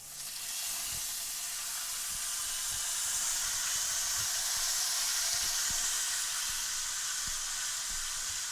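Kalbi sizzles in a hot pan on a stove, a loud, continuous spitting hiss that holds steady throughout, with faint low knocks underneath and no voices.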